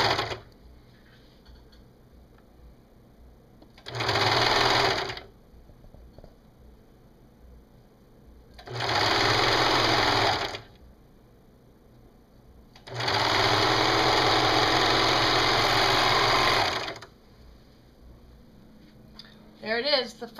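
A sewing machine stitches the sleeve seam of a T-shirt in three steady bursts, the last one longest, each a dense rapid whirring close up, with quiet pauses between them.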